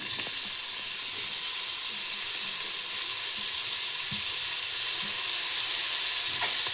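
Chopped tomato frying in hot oil in a pan with onion and green chilli for a brinjal stir-fry, a steady close hiss of sizzling with occasional faint stirring clicks.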